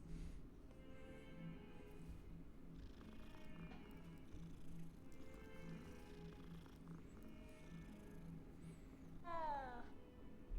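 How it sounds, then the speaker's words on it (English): Cats meow in Hogwarts Legacy, soft and somewhat distant over a low hum, with a clearer, rising meow near the end; a voice talks faintly alongside. "Hi, kitties."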